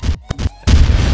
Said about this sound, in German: Das war eine Explosion!